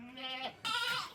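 A goat at a livestock sale of goats, cows and buffaloes bleats twice in quick succession, close and clear, the second call louder and more wavering.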